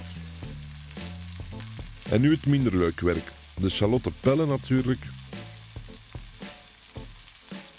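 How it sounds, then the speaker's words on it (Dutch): Roast beef sizzles steadily in hot olive oil as it browns in a pan, a continuous frying hiss beneath someone talking at close range. "Als de olie goed heet is, gaan we een stukje vlees bakken aan alle kanten."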